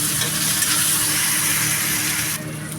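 Chopped onion and tomato fry in a pan with a loud, continuous close-up sizzle that dips slightly near the end.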